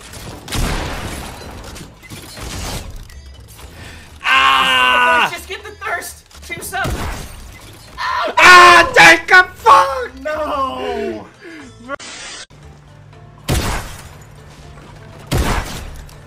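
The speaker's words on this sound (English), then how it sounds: "I killed both of those guys with one shotgun shot?!" A shotgun blast in the video game Fortnite, a sudden loud bang among scattered game effects, short bursts and bright tonal chimes, with stretches of quiet between.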